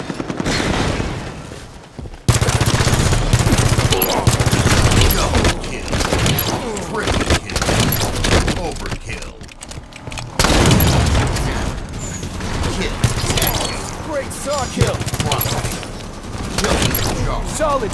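In Halo 5 Infection, loud booming shotgun blasts and dense gunfire crash repeatedly through a chaotic multiplayer match, with announcer-style voice callouts mixed in.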